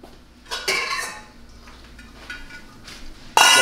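A cooking pot is pulled out in a kitchen, with several sharp metallic clanks and clatters of pots and pans, the last one loud and close.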